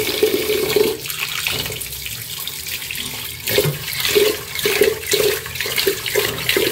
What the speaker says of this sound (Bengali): আর চালটা এখন ধুয়ে ফেলাই